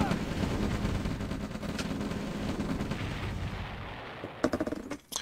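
Gunfire destroying a communication center in the OpenRA Red Alert strategy game: dense, continuous rattling shots and blasts for several seconds, thinning into a few sharp separate bursts at the end.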